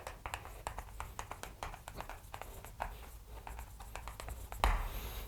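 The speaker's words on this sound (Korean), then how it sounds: "다시 한번 써볼게요." Chalk or marker strokes on a board during a calculus lecture on integrating trigonometric functions, a run of quick taps and scratches with a louder knock near the end, close and moderately quiet.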